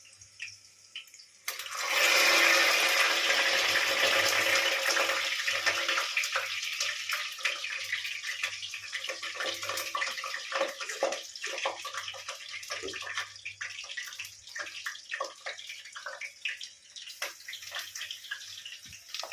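Leaves for Pahadi patrode fry in hot oil, a loud steady sizzle that bursts in after a quiet second and settles into a dense crackling hiss, with no talking.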